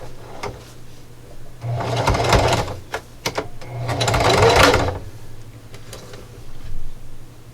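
A sewing machine stitches fabric in two bursts of quick mechanical whirring and clatter, with a low motor hum beneath and softer ticks and clicks of the machine between and after the runs.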